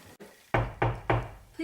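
Three loud, evenly spaced knocks land on a door close by at a dinner party, each a sharp thud, with a quiet room tone between them.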